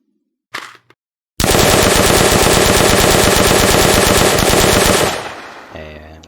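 An STG-44 assault rifle in an Unreal Engine zombies game fires in one long, loud, rapid automatic burst after a couple of brief clicks, then the shots ring out and a mechanical reload clatter follows.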